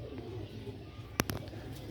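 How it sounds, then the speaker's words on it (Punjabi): Sialkoti pigeons with green necks give a short burst of cooing, two or three throaty calls close by near the end, over a low murmuring background. "ਚੂਹੇ ਕਬੂਤਰ"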